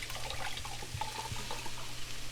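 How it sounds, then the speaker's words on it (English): Apple cider vinegar pours into a mason jar, a steady, close gurgling trickle of liquid that runs continuously without a break and with no voices. "So we'll pour the apple cider vinegar in here"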